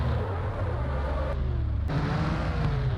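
A car's engine drones and shifts pitch as it drifts in a mobile online racing game, with a steady low motor hum and tire noise, fairly loud and close, with brief swells.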